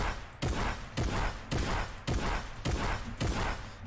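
Rapid bursts of video-game gunfire from an SMG, assault rifle and shotgun in Fortnite, about seven loud, evenly spaced volleys close up with no talking.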